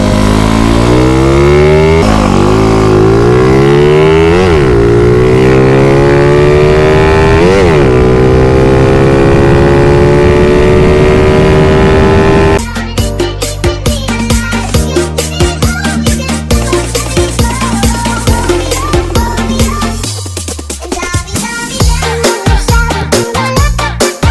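A motorcycle is ridden along a road, its engine revving up through rising gear pulls, then cutting to a harsher, choppier close-up engine roar in the second half, loud throughout with no talk.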